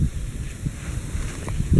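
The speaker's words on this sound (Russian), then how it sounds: "Сегодня еще ветер сильнее, чем вчера." Gusty wind on a frozen river during ice fishing buffets the microphone with low rumbling bursts that rise and fall, loud and close, with no voices.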